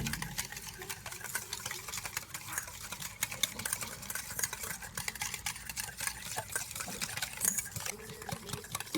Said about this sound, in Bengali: আর এবার আমি সব কিছু একটু ভালো করে ফেটিয়ে নেব।